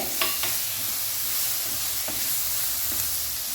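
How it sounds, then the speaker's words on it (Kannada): Roughly chopped tomato going into masala frying in a pan, giving a steady close sizzle with a few soft stirring scrapes and clinks scattered through, no talking. "ಈಗ ನಾನು ಟೊಮೆಟೊ ರಫ್ಲಿ ಚಾಪ್ ಮಾಡಿದ್ದನ್ನು ಹಾಕ್ತೇನೆ."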